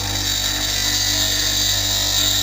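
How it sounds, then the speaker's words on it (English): A woodturning tool meets a bench grinder running at full speed, producing a loud, steady, continuous grinding whine with a constant low motor hum underneath and no pauses. "I hold the tool once the grinder's at full speed and introduce it into the grinder"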